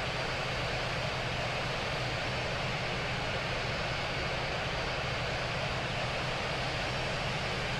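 Cathay Pacific Airbus A350-1000 taxiing to the gate after landing, heard from inside the cabin as a constant broad engine roar and hum, steady and unbroken.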